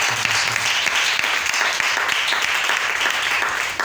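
Church congregation applauding in praise, a dense, steady wash of clapping throughout with a faint voice underneath.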